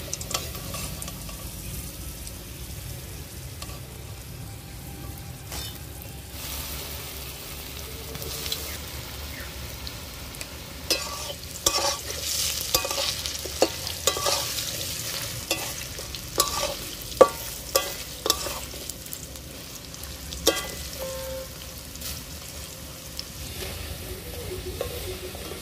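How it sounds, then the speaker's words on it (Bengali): French fries deep frying in hot oil at home, a continuous dense sizzle with crackling pops and occasional stirring clinks, steady and close, no talk. "খুব সুন্দর করে লাল লাল করে ভেজে নিচ্ছি।"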